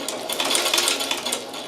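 A Chinese patcher sewing machine driven by a 220 volt motor runs slowly on 110 volts, giving a steady fast chattering stitch rhythm, close and fairly loud, with no talk.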